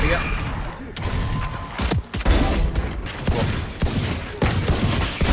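Rapid automatic gunfire from the game Valorant, dense continuous bursts with short breaks, loud and close, as the gun is emptied.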